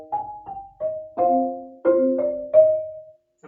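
Four mallets held in one grip strike a mallet percussion instrument, sounding a series of ringing chords and harmonies, each struck attack followed by a sustained, decaying tone.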